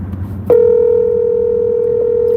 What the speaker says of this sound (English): Let me see if I can get him on the phone.